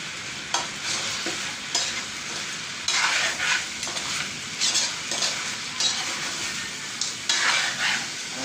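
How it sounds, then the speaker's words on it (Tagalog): A spoon stirs food frying in a pan with repeated scraping strokes over a continuous sizzle, loud and close, with occasional clinks against the metal. "Hinahalo, hinahalo."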